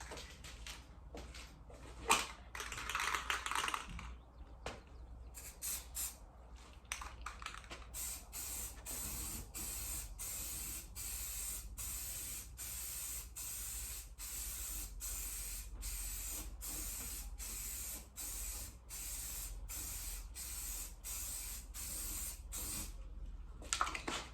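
Primer being sprayed onto the hood of a Mazda RX-8 in a series of hissing bursts, some short and some long, close and fairly even over more than twenty seconds, with brief pauses between passes.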